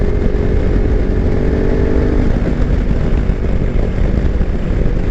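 Kawasaki Versys X300 motorcycle being ridden on country roads, its engine a steady, loud drone blended with wind rush, continuous and close with no talking.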